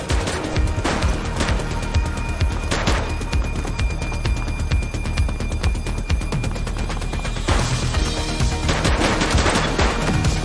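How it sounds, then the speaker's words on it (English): Loud, rapid automatic gunfire in The Precinct police video game, with dense bursts of shots firing continuously and several heavier volleys near the start and end, no voices. "Shots fired!"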